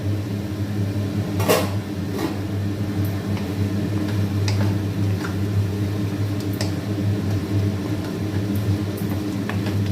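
A mixer grinder runs on fennel seeds and small onions, giving a steady, loud motor hum with a constant whir and occasional faint clicks and rattles throughout.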